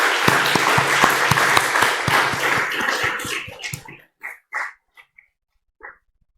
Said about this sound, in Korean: 환영의 박수를 한번 보내드리도록 하겠습니다